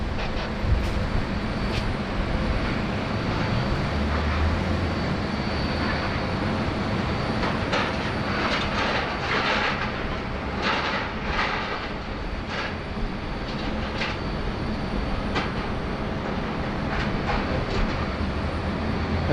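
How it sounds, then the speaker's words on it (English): A British Airways Speedbird airliner takes off at Sydney Airport, its engines a broad, steady roar that stays loud throughout. "Clear for takeoff on runway 34 left for Speedbird 16"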